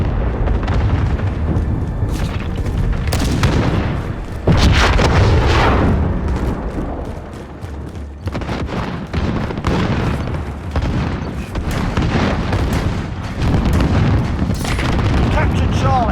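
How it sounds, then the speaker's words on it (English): Cruise missile strikes in Modern Warfare Ground War land as a string of heavy booming explosions, loud and rumbling, one big blast near the middle, mixed with battlefield noise and voices talking throughout. "Allied cruise missile away."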